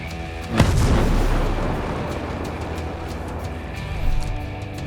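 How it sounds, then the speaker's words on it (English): A rocket explosion in the Ghost Recon Breakpoint shooter game, a loud booming blast early on with a rumbling tail and a second, smaller burst later over steady game ambience. "There's a rocket coming, Ghost Lead."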